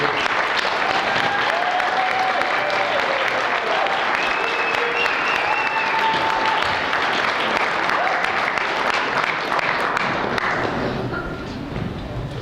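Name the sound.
applause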